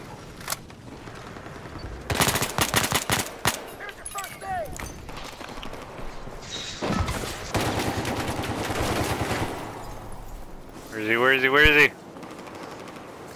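Bursts of video game gunfire ring out in rapid clusters, some machine-gun-like sprays and a few separate shots, mixed with game effects and a voice speaking between the volleys.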